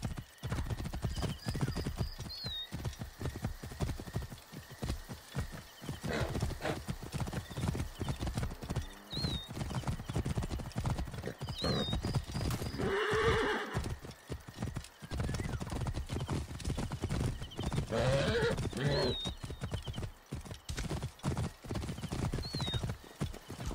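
Horse galloping in a chariot-style race in Assassin's Creed Origins, rapid rhythmic hoofbeats drumming steadily throughout, with occasional whinnies and shouting voices over the top.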